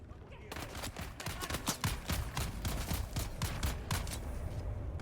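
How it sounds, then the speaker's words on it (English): Rapid gunfire in a video game, dense bursts of shots that run almost continuously at close range, with loud sharp cracks in quick succession and no talk over them. "Why are you shooting at me?"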